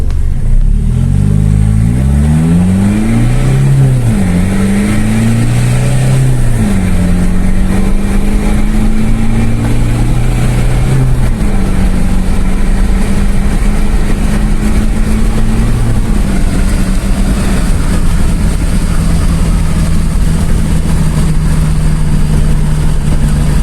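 Isuzu D-Max 3.0L turbo diesel pickup, fitted with a small turbo and a boost controller, accelerating through several gears on a test drive, loud in-cabin engine drone rising in pitch and dropping at each shift, steady and continuous.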